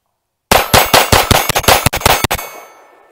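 A Grand Power K22 X-Trim Mk23 .22 pistol firing CCI Velocitor high-velocity rounds at a range: about ten loud, sharp shots in quick succession, then a brief ringing decay.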